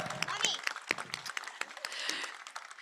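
Audience applause for performers at a vigil, a dense patter of clapping with scattered whoops and cheering voices, steady and moderately loud throughout.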